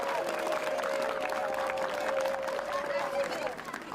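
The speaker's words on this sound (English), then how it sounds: "So another round of applause" A school crowd at an Arbor Day event applauds second grade poetry contest participants, clapping steadily amid chatter and voices that continue beneath the clapping.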